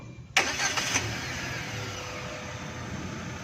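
A Chery Tiggo 5x Luxury crossover's engine cranks and catches with a sharp onset, then settles into a steady, moderately loud idle hum heard close by with no talking.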